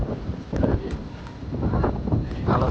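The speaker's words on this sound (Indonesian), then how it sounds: "anginnya kenceng sekali angin ini" Strong wind gusts across an open mountain campsite on Gunung Nganten in Selo, Boyolali, roaring and buffeting the microphone in steady, loud rushes throughout with no clear speech.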